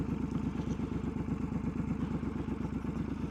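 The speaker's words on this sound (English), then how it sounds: "Here's a little throttle twisty. A little poppy." A Triumph Scrambler 1200 XE motorcycle fitted with a slash cut silencer runs steadily, with a low, even, pulsing exhaust rumble close by and no big revs.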